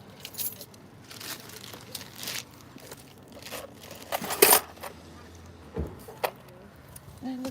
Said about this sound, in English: We need keys.